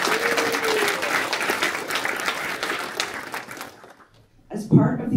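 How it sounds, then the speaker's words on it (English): Applause from a crowd at a high school Rose Festival princess reveal in East Portland, dense clapping that fades out near the end before a voice begins speaking. "So I just have to give them one more round of applause."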